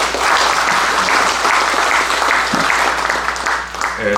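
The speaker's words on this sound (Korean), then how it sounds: "박수 한번 부탁드립니다" Sustained, loud audience applause at an academic conference, dense clapping that holds steady throughout and begins to thin out just before the end.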